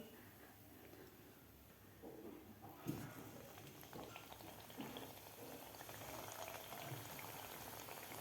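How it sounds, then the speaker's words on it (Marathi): Balushahi sweets deep-frying in oil over a medium flame: a soft bubbling and crackling patter that grows as a new batch goes in, quiet and close with no talk. "दुसरीसुद्धा बॅच आपल्याला यामध्ये सोडायची आहे"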